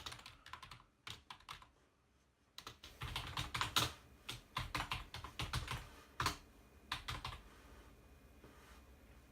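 Typing on a Corsair K70 Cherry MX Rapidfire mechanical keyboard: a steady run of close, clacky keystrokes in quick irregular bursts, sharp and fairly loud, with a brief lull before the typing picks up again.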